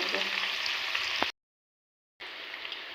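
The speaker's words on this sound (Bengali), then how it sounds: "এইভাবে পনিরটাকে আমি হালকা করে ভেজে নেব।" Paneer shallow frying in oil in a pan, an even, close sizzle with light crackles, cut off by a brief total silence before the sizzling resumes.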